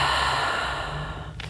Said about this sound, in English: Hold this breath and exhale.